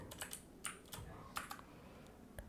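Someone types code on a computer keyboard nearby, in quiet, irregular bursts of light key clicks with short pauses between them and no talking.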